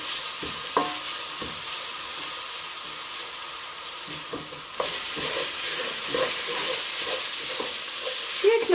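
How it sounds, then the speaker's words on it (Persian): Ingredients for ash reshteh being stirred and sautéed in a pot: a steady sizzle and hiss of frying, with scraping stirs throughout that grow a little louder partway through, and no talking. "و کل مواد رو با هم مخلوط میکنم تا کاملا تفت بخوره"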